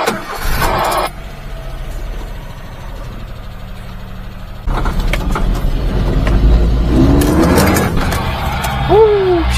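A mini-truck fitted with a larger 32mm carburetor is started and revved hard as it burns a tire, the engine roaring up into a loud, sustained run with a brief squeal near the end and voices in the background.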